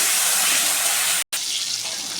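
Steady, loud hissing sizzle of salted, turmeric-coated potatoes and pointed gourd frying in hot oil, continuous with a brief dropout partway through, no voices.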